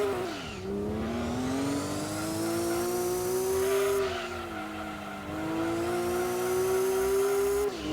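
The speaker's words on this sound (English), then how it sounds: "That was the sound of an opponent passing right under me." In the PS1 racing game Gran Turismo 2, an opponent's race car roars past with a sustained engine whine that rises, dips as it shifts, then climbs again, loud and continuous over several seconds with no voices.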